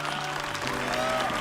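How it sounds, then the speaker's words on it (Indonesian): A studio audience at a televised talent audition claps enthusiastically in support of a contestant, a dense, continuous applause with faint background tones and murmur underneath. "Tepuk tangan semangat dulu yuk untuk Ayu."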